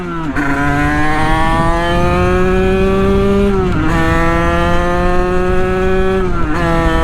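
A Sherco Supermoto 50 with a big bore AM6 engine revs hard and loud, pitch climbing steadily before dropping sharply at each gear shift, repeated twice, with no talking.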